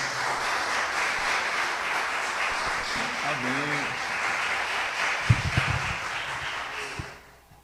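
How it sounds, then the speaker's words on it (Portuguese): A church congregation applauds loudly for the name of Jesus during an evening worship service, a broad continuous wash of clapping with brief voices and low thumps mixed in before it tapers off. "Você pode, por favor, aplaudir o nome de Jesus bem forte?"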